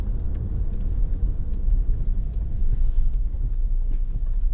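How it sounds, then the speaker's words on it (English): A 2015 Volkswagen Tiguan 2.0 TDI BlueMotion 4MOTION diesel being driven, heard as a steady low engine and road rumble from inside the cabin, continuous and fairly loud throughout with faint ticks above. "This engine is really superb. Plenty of kind of low end torque."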